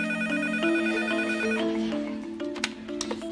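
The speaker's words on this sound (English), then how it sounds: "The red phone is the heart of our phone system" A red emergency telephone rings in a hospital A&E department, a steady electronic ringtone with repeating tonal bursts, fairly loud and close, with faint background activity toward the end.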